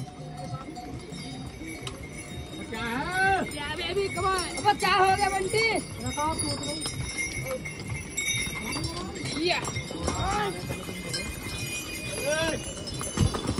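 Many pack horses loaded with baggage file past on a mountain trail near Kedarnath, their hooves clopping steadily beneath a busy mix of people talking and shouting, with occasional animal bleats nearby.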